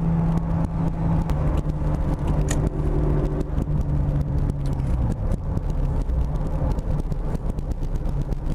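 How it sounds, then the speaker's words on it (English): Toyota MK2 Supra engine roaring loudly from inside the car while driving, a steady dense drone with shifting tones and no talk. "This car is ridiculously loud."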